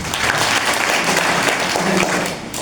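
A congregation at a Sunday fellowship meeting applauds, with dense, continuous hand clapping filling the room, loud and close, holding steady throughout.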